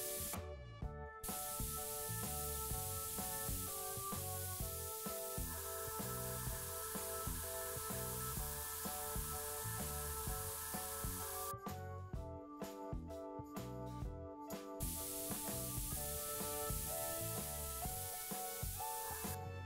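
Gray primer sprayed from a can onto a small Baby Groot model, a faint continuous hiss running through nearly the whole stretch, broken by one short pause, with no voices.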